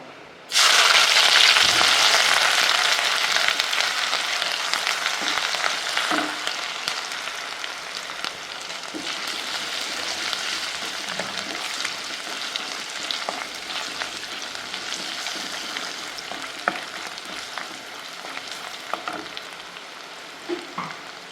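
Crushed ginger and garlic sizzle steadily in hot oil for a Kerala colocasia-leaf curry, a loud bright frying hiss that starts abruptly and continues throughout with occasional stirring clicks, no talking.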